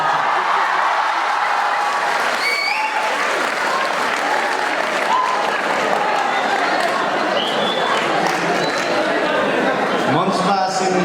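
An audience at a stage event applauds steadily, a dense wash of many hands clapping that continues throughout, with a few brief shouts and voices mixed in.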